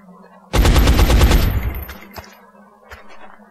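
Automatic gunfire from the tactical strategy game XCOM erupts in a loud, rapid burst of shots lasting about a second, then trails off into fading reverberant echoes with a faint low hum beneath.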